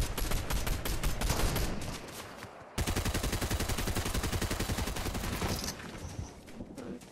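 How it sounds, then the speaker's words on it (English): Fortnite gunfire aimed at trees: dense, continuous rapid shooting that runs for several seconds, cuts out for a moment, then resumes in a fast, steady burst, loud and close. "We could probably shoot at these trees"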